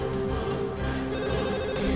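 A telephone rings on and on with nobody picking up, its repeated bell tone steady and fairly close.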